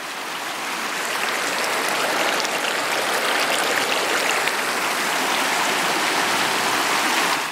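A river rushes steadily nearby, a loud, unbroken wash of flowing water that fills the whole stretch.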